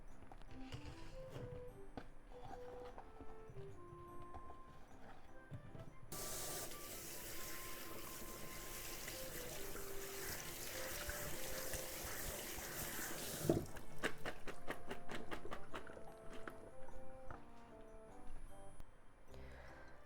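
Tap water runs steadily over raw shrimp to rinse off salt for a shrimp and okra salad, a faint hiss of spray lasting several seconds amid quiet kitchen clinks and background music.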